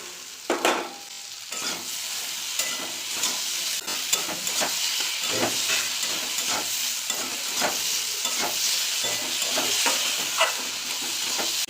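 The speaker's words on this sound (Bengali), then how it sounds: "পেঁপেটা আমার প্রায় ভাজা হয়ে গেছে" Papaya pieces fry in a pan for a Bengali moong dal, giving a steady close sizzle with repeated scraping stirs throughout and no talking.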